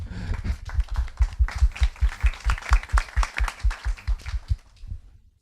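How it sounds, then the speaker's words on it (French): Close, rhythmic clapping at an HR digital awards ceremony, individual claps landing in a steady beat over a lighter spread of applause before fading out. "On peut l'applaudir, merci."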